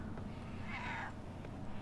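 A cat gives a single soft, drawn-out meow, faint and a little distant, over a low background hum with no talking.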